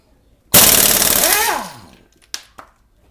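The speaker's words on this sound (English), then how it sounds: "I am going to remove this last lug nut that the Harbor Freight impact gun cannot remove." An Ingersoll Rand 231c air impact wrench, run off a small 11-gallon compressor, hammers loose a stubborn lug nut in one loud, rattling burst of about a second that winds down, followed by two short clanks.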